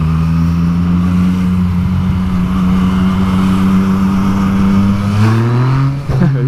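A KTM Super Duke motorcycle engine drones loudly and steadily while lane splitting through Los Angeles traffic, holding a low, even tone before revving up near the end, with wind noise throughout.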